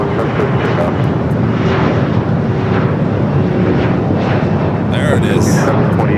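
An airliner taking off from runway 25 right at Los Angeles International Airport, a steady broad jet roar that stays loud throughout, with the engine rumble heard over a radio voice and the thin tones of the airport background.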